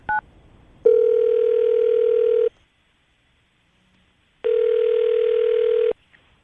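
A telephone dial tone sounds as a call is placed, a steady electronic hum in two long bursts of about a second and a half each, separated by a pause of silence, with a brief click at the start.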